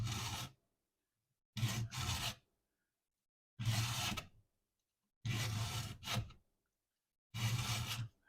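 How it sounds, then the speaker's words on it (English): A chainsaw chain is sharpened with a Husqvarna chain sharpening tool, five close, rhythmic rasping file strokes, some in quick double passes, separated by short silent pauses. "It's a Husqvarna chain sharpening tool."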